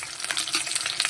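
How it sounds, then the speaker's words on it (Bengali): Diced potatoes frying in hot oil with spices (cumin, coriander, ginger, garlic) give a dense, crackling sizzle with uneven stirring scrapes, close and steady throughout. "আলুগুলোকে সুন্দর করে ভেজে মশলা দিয়ে কষিয়ে তারপরে ঝোল দিয়ে দেবো"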